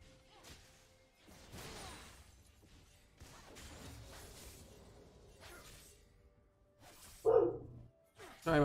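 A dog barks indoors in the background of a game session, a few irregular barks of moderate loudness over quiet room noise, with one sharper louder burst near the end.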